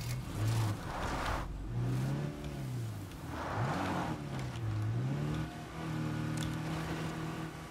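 A car driving in the zombie survival game State of Decay 2: the engine revs up and down in repeated surges with a whirring drone and occasional rumbles. It is steady and fairly close.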